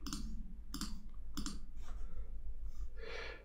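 A computer mouse clicks three times at a steady pace, each click close and crisp, followed by faint breathing and soft rustles in a quiet room.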